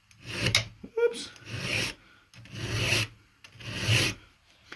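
A steel file sharpens the teeth of a chainsaw chain in firm, rhythmic rasping strokes, about five near and clear scrapes with short pauses between them.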